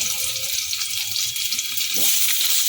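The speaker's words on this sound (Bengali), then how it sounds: "ওই তেলের মধ্যে আমি ফোড়নটা দিয়ে দিচ্ছি" Tempering spices and slit green chillies fry in hot oil, giving a continuous bright sizzle and crackle with small bubbling pops, close and steady throughout, no voices.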